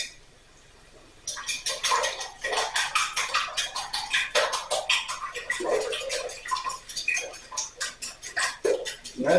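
Heavy cream and coarse pepper being mixed in a bowl, a rapid run of close clinking strokes as a utensil whisks against the bowl, starting after a brief quiet moment and continuing evenly.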